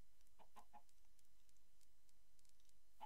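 A Minecraft chicken clucks a few times, faint scattered clucks early on and one more at the very end, with soft game background in between.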